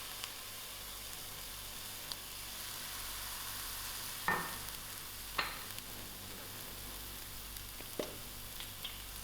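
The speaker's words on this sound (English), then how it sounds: "I'll allow these onions to brown a little" Onions sizzle softly in a pan with thyme while browning, a steady faint frying hiss broken by a few light clicks of a utensil against the pan.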